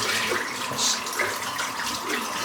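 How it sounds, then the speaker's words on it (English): Running water pours steadily over a shaving brush being rinsed out at a sink, a continuous close splashing hiss lasting a couple of seconds with no talk. "I'm just going to give this brush just a quick rinse out."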